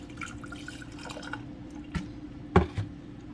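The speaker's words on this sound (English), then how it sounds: "I'm just going to pour some water in the top here, rinse" Water poured into a sprouting jar to rinse sprouts gives a faint, gentle trickle with a few soft splashy drips and a louder splash near the end, close by, with no talk.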